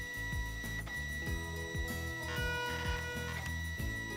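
A Zebra ZT410 label printer running a print quality test, with rapid mechanical ticking and clicking pulses over a steady electronic hum, close by and moderately loud.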